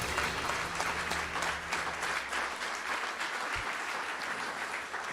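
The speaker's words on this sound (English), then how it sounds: "Give yourselves a round of applause," A full room claps through a sustained round of applause at a Christmas benefit event, steady and moderately loud for several seconds, with a low hum underneath and no voices rising above it.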